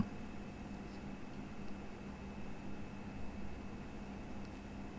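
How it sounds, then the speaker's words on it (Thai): A Philips PPM2702 eye massager plays a soft flowing-water ambient track, a quiet, steady hiss with no pauses and no talk. "นี่เป็นเสียงน้ำไหลนะครับผม"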